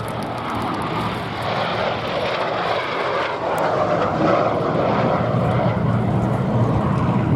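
Two red Hawker Siddeley Gnat jets of the Gnat Display Team passing at the Duxford airshow, a steady broad roar of engine noise that swells slightly and holds loud throughout, with no talk.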